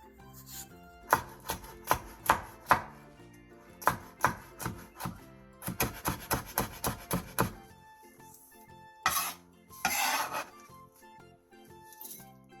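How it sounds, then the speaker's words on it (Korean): A knife chops green and red chili peppers, halved lengthwise and cut on the diagonal, on a cutting board: rapid bursts of crisp, close taps in quick runs, with pauses and a few softer scraping sounds near the end. "청양, 홍고추를 길게 반으로 가른 뒤 어슷썰기 해주세요"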